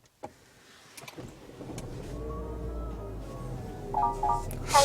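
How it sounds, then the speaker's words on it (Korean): After a soft click, the small 1.3-litre turbo gasoline engine of a 2020 Renault Arkana (XM3) cranks and catches, settling into a low steady idle rumble, with faint electronic chimes near the end. "처음에 시동을 했을 때 초기 시동 시에 약간의 소음 진동은 있는 편입니다."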